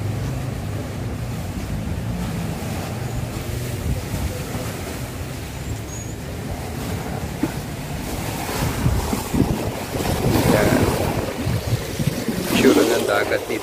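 Sea waves wash onto the beach shore at Plaridel, Quezon, a steady surf roar mixed with gusty wind buffeting the microphone, swelling louder toward the end, with faint voices in the background.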